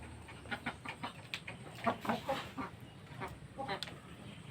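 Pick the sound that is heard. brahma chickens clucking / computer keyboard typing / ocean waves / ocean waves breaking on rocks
brahma chickens clucking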